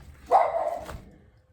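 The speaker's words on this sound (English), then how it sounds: "I can't even deal with this dogs barking at random things" A single dog bark, loud and close, sounding once in an otherwise quiet indoor room with no talking around it.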